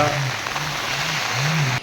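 Monsoon rain pours down in a steady, dense hiss that fills the whole stretch, with a faint low tonal hum wavering underneath.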